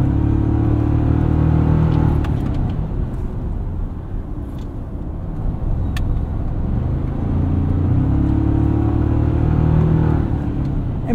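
A 2024 Toyota Tacoma with the 2.4 engine driving on a back road, its engine droning loud and close from inside the cabin, rising and easing in two swells of acceleration under road rumble.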